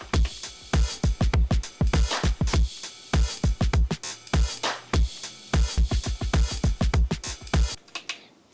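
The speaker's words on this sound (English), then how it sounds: "I'm going to play the beat. It's just something that I had worked on the OPXY," Drum beat programmed on an OP-XY and played through a granular engine: a steady, punchy pattern of deep kick thumps and crisp hits repeating in a tight loop, alone, before stopping abruptly.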